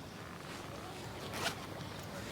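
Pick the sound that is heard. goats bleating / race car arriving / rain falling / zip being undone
zip being undone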